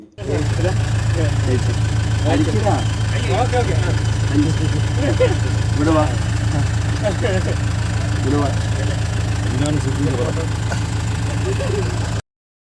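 A jeep engine idling before a midnight off-road drive, a steady low rumble heard close throughout, with people talking over it.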